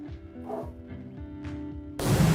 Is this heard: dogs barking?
yes